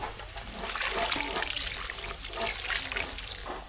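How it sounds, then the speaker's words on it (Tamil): Tamarind water is poured into a pot of sambar rice, giving a steady, close liquid splash and trickle that runs without a break for a few seconds. No one speaks. "கடைசியாக புளி தண்ணி கரைச்சி வச்சுருக்கோம் அது சேர்த்துக்கலாம்"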